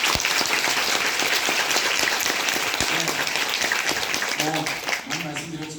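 Audience applause at a curtain-call stage greeting after the musical Red Book, a dense steady wash of many hands filling the whole stretch, with a voice starting to speak over it near the end.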